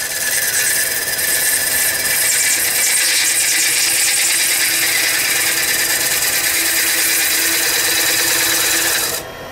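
A gouge cuts large, aggressive shavings from a beech salad bowl spinning on a VB36 woodturning lathe, giving a steady, loud, continuous rasping scrape that holds for about nine seconds before stopping abruptly.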